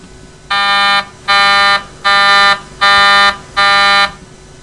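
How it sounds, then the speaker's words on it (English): A loud synthetic test tone, harmonically rich and alarm-like, with all its frequency components starting together, sounds in five evenly spaced half-second bursts during a lecture, with no talking over it. "It sounds a bit like an alarm. It's not an alarm."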